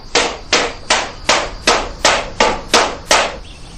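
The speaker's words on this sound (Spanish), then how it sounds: "Después conformaban las piezas golpeándolas en moldes." Metal pieces hammered into molds, heard as nine sharp, evenly spaced ringing strikes about half a second apart, loud and close with no voices.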